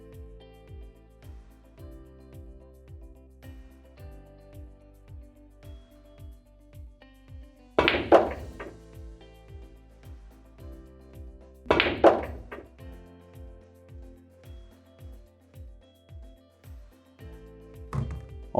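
Two sharp cue-ball strikes on a pool table ring out clearly, each a loud knock with a brief clatter of balls, set over a quieter steady tapping background; the shot on the 7 ball ends in a scratch.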